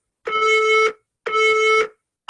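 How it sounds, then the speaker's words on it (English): Two loud, identical electronic buzzer tones from a workout interval timer, each lasting about half a second with a short gap between, and a third starting at the very end. "We're all going to start at the buzzer this time."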